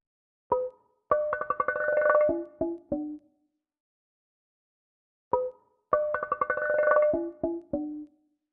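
A sampled metal-pipe-on-pavement scrape is played on a Fairlight CMI synthesizer reproduction as a short phrase of pitched, stuttering hits, and the same phrase repeats after a pause.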